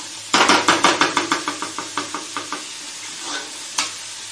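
A pan of masoor dal with chopped tomatoes is stirred in a quick run of about a dozen rhythmic scraping strokes that fade gradually, over a low sizzle, with one more stroke near the end; no talking.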